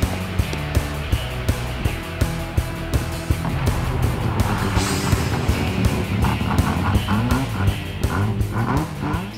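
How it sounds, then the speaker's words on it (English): Vehicle engines roar at the Knox Mountain Hill Climb, a loud, sustained, layered drone that rises and shifts pitch as gears change, with sharp regular clicks and bursts over it and no talking. "these big rigs pull hard to make the grade and get the gears shifted up the run"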